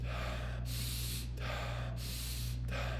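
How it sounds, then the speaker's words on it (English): Quick, forceful breaths in Wim Hof Method breathing repeat in a steady rhythm, each sharp hissing burst followed by a short pause, close and loud over a constant low hum. "it's a rapid breathing"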